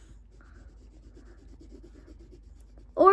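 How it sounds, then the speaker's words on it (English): A pencil scratches and strokes across paper while drawing a snowman, a quiet run of short rubbing strokes close up, followed by a louder burst at the end. "Now we're gonna draw with pencil."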